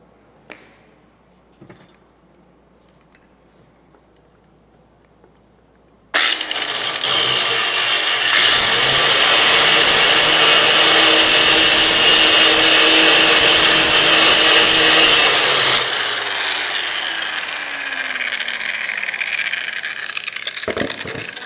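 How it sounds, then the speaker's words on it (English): A grinder cleans a bare new piece of metal before flux core welding. After six quiet seconds, a loud, close, continuous grinding whine runs for about ten seconds, then drops to a softer steady hum until the end. "So the first thing you do is clean it off with some sort of a grinder."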